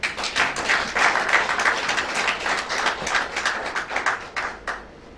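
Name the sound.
audience applauding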